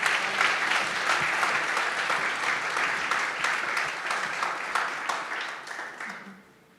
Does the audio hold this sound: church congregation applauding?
yes